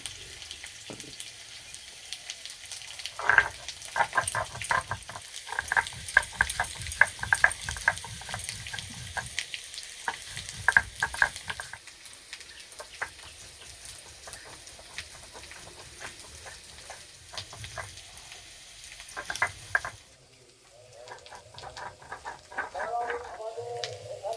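Sliced potatoes fry in hot oil in a village kitchen, a steady close sizzle broken by repeated clattering stirs and scrapes of a spatula against the pan, then a quieter stretch near the end.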